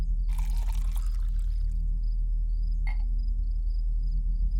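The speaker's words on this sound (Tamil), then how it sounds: "சரி, ஊத்து." A drink is poured, a short splashing trickle lasting just over a second, followed by a faint clink, heard over a steady low hum.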